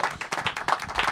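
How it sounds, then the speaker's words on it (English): Brief burst of audience clapping on a TV show, a small group of hands beating in quick irregular rhythm, moderately near and fairly soft. "Give him a round of applause, everybody."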